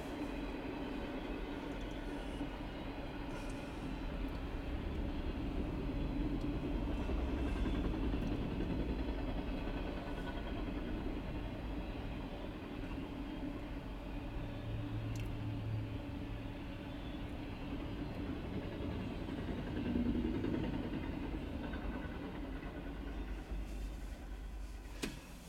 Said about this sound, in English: Figures right when the good train comes by.